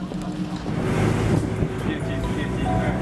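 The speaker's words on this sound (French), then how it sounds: "nous allons être sur un bateau à moteur" A motorboat ride in cold weather near Dandong, Liaoning, heading to Jiangdao island: a steady low engine drone and water rush with wind buffeting the microphone throughout, continuous and fairly loud.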